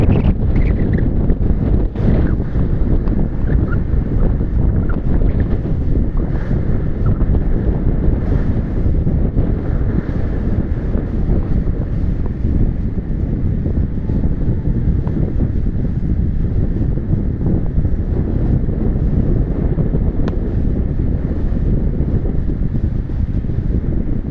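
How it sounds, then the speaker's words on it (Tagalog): Big ocean waves crash and roar amid strong typhoon wind on the coast at Baler, with steady loud wind buffeting throughout and surf rumbling continuously. "Malaki ang alon ngayon dito."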